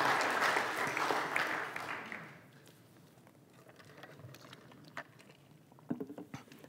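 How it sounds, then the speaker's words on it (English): An audience at a Mother's Day church gathering claps warmly for a couple of seconds, then the applause fades into quiet room tone with scattered small knocks and movement. "let's give Frieda a round of applause."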